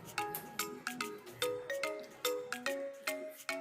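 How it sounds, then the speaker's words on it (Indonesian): A telephone ringtone plays a bright electronic melody of about a dozen short chiming notes, each struck sharply and decaying quickly in a steady rhythm, clear and alone with no voices. "gambar telepon mengeluarkan suara ya"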